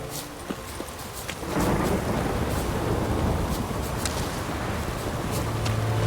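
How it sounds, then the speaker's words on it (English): A thunderstorm in the video game The Witcher 3: steady rain and wind hiss, swelling louder after a moment into a continuous rumbling wash with scattered crackles and patters, no voices. "Storm, damn it."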